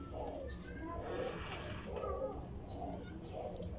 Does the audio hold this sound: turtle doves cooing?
yes